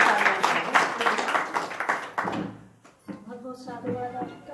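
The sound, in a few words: audience applause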